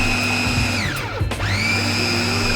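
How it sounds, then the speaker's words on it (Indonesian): A kitchen blender grinds fish batter with cold water added, whirring loudly and steadily, its motor pitch dipping and rising as the blades load and clear. "Setelah itu tambahkan 100 ml air dingin, lalu kita haluskan lagi"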